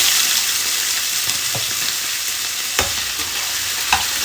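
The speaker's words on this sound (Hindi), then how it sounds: "आलूओं को हम जब तक ये लाइट ब्राउन नहीं हो जाएंगे, इनको हम इसी तरह से फ्राई करते रहेंगे" Potato pieces frying in hot ghee in a pan, a steady loud hiss and crackle filling the space close up, with a couple of soft utensil knocks and no talking.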